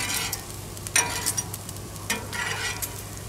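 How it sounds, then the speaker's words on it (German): Bacon frying on a barbecue grill at an outdoor BBQ meetup, a soft continuous sizzle with occasional louder crackling spurts, fairly close and moderate in level, with no talk. "Der Bacon brutzelt so schön gemütlich vor sich hin."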